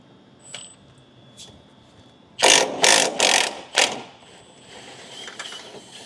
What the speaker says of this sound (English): 19 millimeter here, we're gonna remove this first bolt.